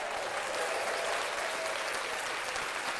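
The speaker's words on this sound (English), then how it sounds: "Let's clap that up." A podcast studio group claps together in dense, steady applause that holds at an even level throughout, with no talk over it.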